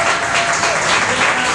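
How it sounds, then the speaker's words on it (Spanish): Dense, loud applause from a comedy show audience fills the whole stretch, a steady wash of many hands clapping with no voices standing out. "Para ellos también un fuerte aplauso"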